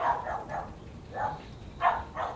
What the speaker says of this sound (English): Can you hear dogs?